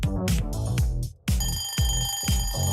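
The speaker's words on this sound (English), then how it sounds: "An alarm sound effect when time is up" Quiz time-up alarm effect: a rapid, loud electronic ring in repeated bursts, briefly cut off and then resuming with a brighter, more metallic ringing tone.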